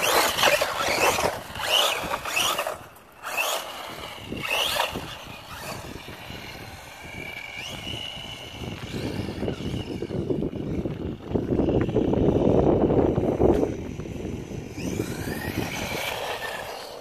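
A Wltoys A979B RC car drives with a whining electric motor that rises and falls, sometimes near and loud and sometimes fading, with rough scraping bursts as it moves over the ground.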